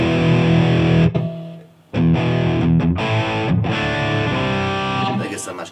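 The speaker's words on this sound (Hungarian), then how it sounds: "egy ilyen overdrive-os, közepesen overdrive-os hang, tehát nem ennyire heavy torzított" Electric guitar with a medium overdrive tone played through a G-Lab GSC2 effects setup, loud sustained distorted chords with a short break and quick changes, played alone without talk.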